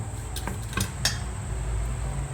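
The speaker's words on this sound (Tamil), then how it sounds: "ஆட் பண்ணிவிட்டு ஒரு விஸ்க்கு அல்லது ஏதாவது ஒன்று வச்சுட்டு நீங்கள் வந்து மிக்ஸ் பண்ணிக்கோங்க." A whisk stirs roasted gram flour into ghee in a metal pot for Mysore pak, giving a few sharp clinks and scrapes against the pot over a steady background hum.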